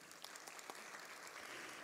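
Applause from a theatre audience during a special ceremony at the Teatro Amazonas, a faint, even clatter of many hands with a few sharper individual claps standing out.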